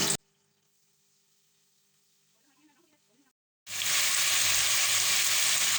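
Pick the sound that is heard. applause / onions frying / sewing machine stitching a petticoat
onions frying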